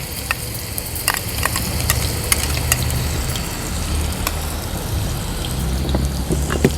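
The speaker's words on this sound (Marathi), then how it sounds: "तेल पण छान गरम झालं आता हे वाटण आपण फोडणीला घालायचे" Ground masala paste dropped into about two tablespoons of hot oil in a pot sizzles and crackles steadily and loudly up close, a dense continuous frying hiss with scattered pops and no voices.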